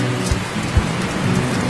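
Steady rain falls in a scene from the film In My Father's Den, a dense, even hiss of drops on surfaces with a couple of soft low thuds, filling the background throughout.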